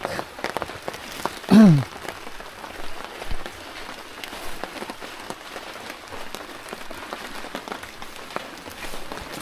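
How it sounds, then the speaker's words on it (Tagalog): Steady rain falls at a forest camp with a hanging tree house, a dense even patter filling the whole stretch, with one brief rising chirp early on and no talk. "pag ganitong ulan parang ang tagal huminto dahil wala tayong magawa ngayon kasi ulan"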